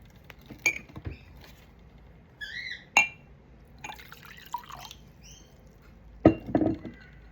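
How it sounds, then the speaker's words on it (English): Water is poured into a cup in a quiet room, with scattered drips, splashes and light clinks of the vessel spaced unevenly over several seconds, close and fairly soft. "I pour water into a cup because a cup is as good a vessel as a glass"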